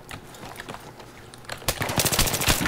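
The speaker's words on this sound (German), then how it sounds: "ich schieße die ganze Zeit gegen so eine scheiß Ampel" Rapid G3 rifle fire in a video game, scattered shots at first that turn into a loud, sustained burst of close gunfire.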